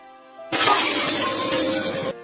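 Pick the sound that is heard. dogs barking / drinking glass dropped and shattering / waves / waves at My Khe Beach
drinking glass dropped and shattering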